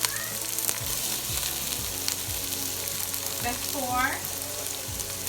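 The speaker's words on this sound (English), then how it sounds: "some onion to the pot with the broccoli because these things take longer to cook" Onion and broccoli sauté in a pot with a steady, close sizzling hiss throughout, while a voice briefly speaks over it toward the end.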